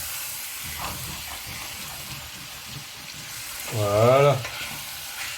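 Veal tajine with apricots being stirred in a pot, a steady low sizzle and soft scraping running throughout, with one short word spoken near the start and a brief louder burst of steam near the end.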